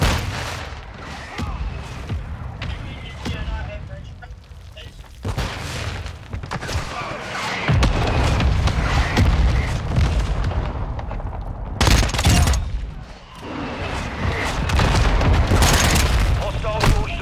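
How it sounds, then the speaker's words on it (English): Mortar strike blasts in a first-person shooter, heavy booms and gunfire bursts rolling over a continuous battle din, with louder impacts around the middle and late sections and voices in the mix. "Our mortar strike is inbound."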